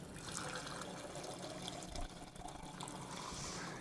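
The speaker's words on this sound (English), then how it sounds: "Now I'm going to take this second beaker and fill it up with water." Water pours into a glass beaker in a classroom lab, a steady faint trickling fill that runs close and quietly throughout with no talking.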